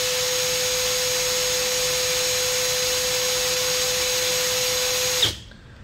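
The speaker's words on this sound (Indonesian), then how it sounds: "Modenya mode mengebor biasa, kita akan uji di kecepatan nomor 1 terlebih dahulu." A cordless brushless impact drill in plain drill mode at speed 1 whines steadily with a high motor tone and broadband hiss for about five seconds, then cuts off and spins down abruptly near the end.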